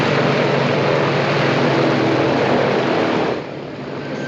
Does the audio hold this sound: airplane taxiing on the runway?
yes